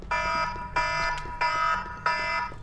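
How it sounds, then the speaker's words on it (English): An alarm from the game GTA 4 beeps in four identical harmonic tones, each about half a second long with short regular gaps, loud and close over faint background noise. "And that was my alarm."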